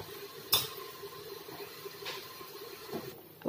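A spoon stirs rice kheer boiling in a pot, a soft scrape and an occasional clink of metal over a low bubbling simmer, with no talking.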